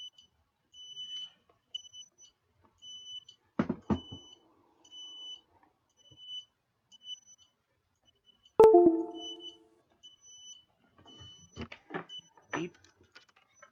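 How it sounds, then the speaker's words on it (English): A Spectrum DX6e drone radio transmitter beeping, a thin, steady, high electronic tone repeating in short pulses across the whole span, with occasional handling knocks and clicks close by. "My thing's going to beep."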